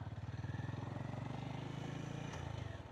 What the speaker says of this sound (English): I like the sound of the bike anyway.